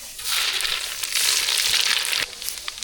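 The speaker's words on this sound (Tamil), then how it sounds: "சாம்பார் தாளிக்க எண்ணெய் சூடாயிட்டு கடுகு சேர்த்துக்கலாம்" Steady, bright sizzle of mustard seeds in hot oil, loud and close, with faint crackles and pops running throughout.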